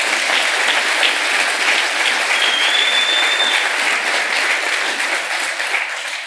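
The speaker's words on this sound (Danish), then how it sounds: "Det kan vi godt lige klappe af." An audience at a music talk event gives steady, dense applause, a continuous wash of clapping that carries evenly for several seconds and begins to fade at the end.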